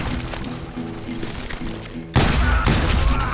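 Gunfire rings out in the Western shooter Call of Juarez Gunslinger, a steady layer of game noise that suddenly gives way to a loud, dense burst of shots and booms partway through.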